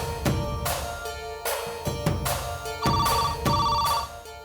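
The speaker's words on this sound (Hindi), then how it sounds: "फोन बज रहा है, जाकर के देखो कि कौन है।" A telephone rings in repeated bursts, a bright electronic ringtone pattern sounding close and clear with no voices.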